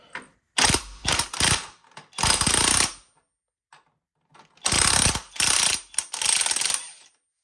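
A Brown and Sharpe No. 2 surface grinder wheel being tuned up while machining a tensioner pulley bushing gives several loud bursts of harsh grinding and rasping, split by short silences, with a longer run of grinding near the end.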